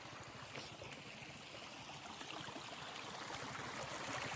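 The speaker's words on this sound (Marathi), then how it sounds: "वाहत पाणी असतंय तो काही कसं खळा खळा खळा खळा पाणी चाललंय" Water runs steadily through a stream or flooded road crossing, a continuous near rushing wash that swells slightly louder toward the end, with no voices.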